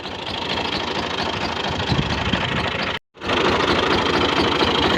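A tractor engine runs steadily near the microphone, a loud low chugging drone with a brief dropout partway through before it resumes.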